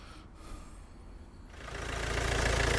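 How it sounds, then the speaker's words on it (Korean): A Mercedes E250 CDI 4MATIC diesel fired up after fitting a new Valeo alternator: quiet workshop background, then the engine catches about halfway through and settles into a loud, steady, rumbling idle close by. "지금 알테타 교환해서 시동 걸었습니다"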